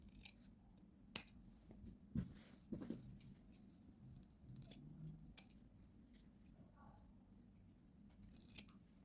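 Scissors snipping off the corner of sewn fabric while making a suit, a few soft close crunches and clicks over a quiet room background.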